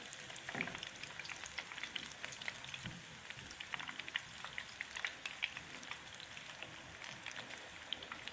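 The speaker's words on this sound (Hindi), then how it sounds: "बस 1 से 2 मिनट हम इसको फ्राई करेंगे लाइट ब्राउन होने तक।" Chicken veg sticks deep-fry in oil, a soft, continuous bubbling sizzle with scattered small pops and crackles, fairly quiet and even, with no talking.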